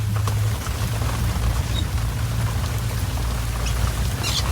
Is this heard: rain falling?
yes